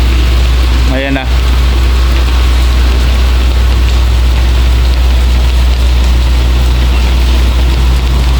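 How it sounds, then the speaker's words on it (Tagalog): Heavy rain pounding steadily on a car while the engine idles, a loud dense wash with a deep low rumble, and a brief chirp near the start. "Lumakas pa ulan."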